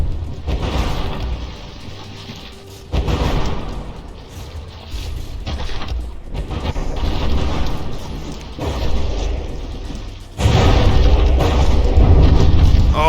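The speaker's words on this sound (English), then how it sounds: "the stern getting a bit pummeled by the AoE of the explosions of these mortars" Mortar shells burst against the stern of a battleship in the naval combat game From the Depths, a series of deep booming explosions and crashes, with a sustained loud barrage near the end.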